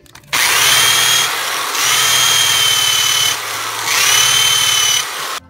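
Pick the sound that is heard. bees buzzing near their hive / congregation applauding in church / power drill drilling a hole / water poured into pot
power drill drilling a hole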